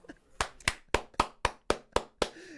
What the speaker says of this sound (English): Roaring applause.